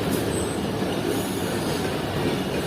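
An express train on the Karachi line rolls steadily along the rails, with a continuous loud rumble of wheels and carriages and no break in the noise.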